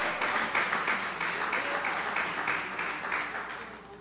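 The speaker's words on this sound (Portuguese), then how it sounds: "Aplauda o Senhor com o seu melhor." A church congregation at a Nova Vida service claps together in a steady, rhythmic round of applause, moderately distant and gradually tapering off.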